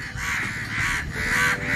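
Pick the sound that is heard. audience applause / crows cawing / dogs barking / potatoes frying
crows cawing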